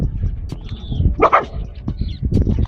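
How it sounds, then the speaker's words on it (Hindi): A dog barks and growls close by while pushing in at a donkey's food, sharp barks and snarls in quick bursts with small whimpers in between. "इस कुत्ते को ही देखो, यहां पर ये इस डोंकी के खाने पर अपना मुंह मार रहा है और भौंक कर उसी पर"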